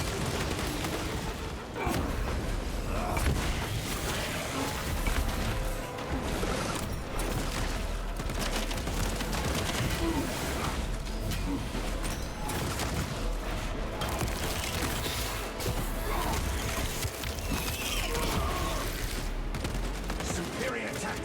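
Dense, continuous gunfire and bursts of automatic weapons rattle against Tyranid hordes in a Space Marine video game, with booming impacts layered throughout a long, loud battle sequence.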